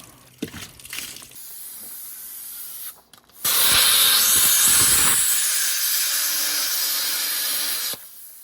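A Hypertherm Powermax plasma cutter slices through a seized muck-spreader main drive gearbox part, giving a loud, steady roaring hiss that runs for several seconds and then cuts off abruptly after a few softer clicks and rustles.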